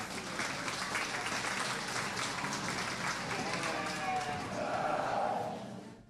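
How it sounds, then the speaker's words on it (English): Sustained applause from a crowd at a county fair sheep and goat show fills the space, steady and fairly loud, then fades out quickly at the very end. "Let's give these exhibitors a round of applause."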